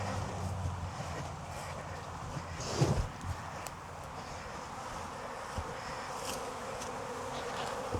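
Honeybees buzz around a relocated hive, a soft steady swarm hum near the microphone with light wind noise and a brief footstep-like thump partway through.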